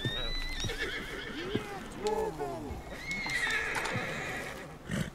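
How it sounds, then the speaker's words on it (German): A horse in the video game Red Dead Redemption 2 whinnies in shrill, wavering neighs against a busy background of hoofbeats and game sounds, and someone talks over parts of it. "ich beruhige erstmal unser Pferd, ey."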